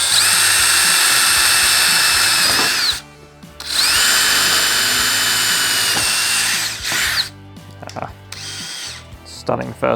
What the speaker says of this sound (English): so that when we drill, the drill bit doesn't slip all over the place.